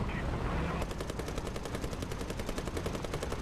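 Rapid gunfire from a Vickers Mk.E Type B tank in the War Thunder video game, a fast, steady string of loud, close shots running without a break after a short lead-in.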